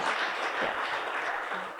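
An audience gives a short round of applause for Iroquois County pork producers, a soft, steady patter of clapping heard briefly at moderate distance.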